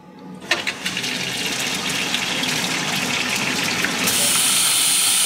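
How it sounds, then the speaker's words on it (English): Water jet on a wire EDM machine switched on through the upper and lower nozzles, a sudden hissing gush that starts after a brief quiet and continues as a steady close rushing spray. "So the first thing to do is just do the jet of water."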